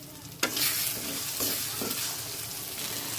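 Chicken and egg stir-fried together in a pan for chicken egg parotta, with a sharp scrape of the utensil followed by steady sizzling and a few more stirring scrapes, close and alone without any talk.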